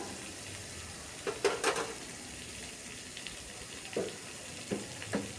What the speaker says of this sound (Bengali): নারকেলটা দিয়েও একটু ভাজা ভাজা করে নিলাম।